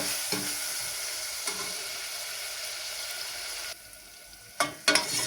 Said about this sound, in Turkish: İyice kıyması kavrulması lazım ki kıyma kokusu kalmasın.